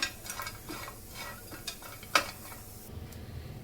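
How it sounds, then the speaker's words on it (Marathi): Whole spices and coconut dry roasting in a pan on a gas stove, with quiet stirring scrapes and soft clinks of a utensil against the pan, one sharper knock partway through, over faint low background noise. "गॅसवर आता आपण पॅन ठेवलेला आहे, खोबरं भाजून घेऊया।"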